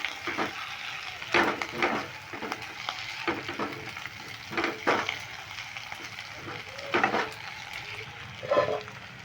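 Potato curry with coriander leaves is stirred in a pan over low heat. A spoon scrapes and stirs in irregular short bursts over a quiet, soft sizzle.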